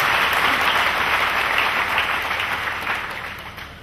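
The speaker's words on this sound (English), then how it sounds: "Clap for Jesus Christ." A church congregation claps together in dense, continuous applause that fills the room, then tapers slightly toward the end.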